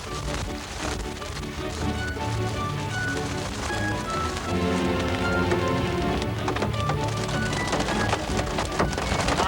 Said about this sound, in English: I thought for once we finally got away from the hail, and then here it came again.